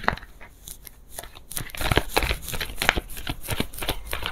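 Tarot cards being shuffled before a reading, a dense run of papery riffles and slaps that grows louder partway through, close and with no talk over it.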